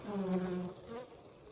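Bees buzz loudly and steadily up close at an apiary hive beside the queen bee, a dense droning hum that wavers slightly in pitch before fading a little toward the end.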